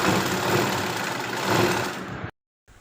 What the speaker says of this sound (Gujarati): એન્ડમાં પણ આવી રીતના લેસને ફોલ્ડ કરીને ઉપર સિલાઈ કરી દઈશું.